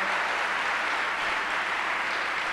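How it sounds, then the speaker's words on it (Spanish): An audience applauds in welcome at a community association gathering, a dense, steady wash of many hands clapping that lasts throughout without pause or talk. "le damos un aplauso de bienvenida."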